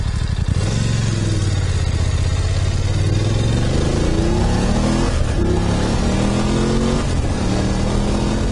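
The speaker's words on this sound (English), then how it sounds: "I've got there's a car coming." A car passes a rider on a BMW F850 GS Adventure motorcycle while the bike's engine drones loud and close, its pitch rising and shifting with wind rush throughout and no talk over it.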